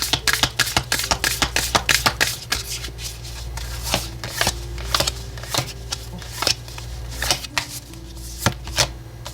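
Oracle cards are shuffled by hand during a tarot reading, a rapid run of crisp riffling snaps and soft card slaps repeating close up over a low steady hum, with no talking.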